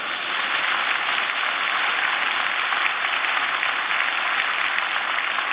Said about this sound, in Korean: 큰 박수 한번 하세요.